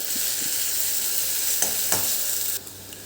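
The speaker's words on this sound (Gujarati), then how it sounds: "બે મીડિયમ સાઇઝની ડુંગળીને મેં ચોપરમાં ચોપ કરી લીધી છે તે એડ કરીશું હવે એને સારી રીતે આપણે સાંતળી લેવાની છે" Two medium onions, chopped in a chopper, sauté in a pan for chole, giving a loud steady sizzle with a few scraping stirs and then dropping to a softer frying hiss near the end.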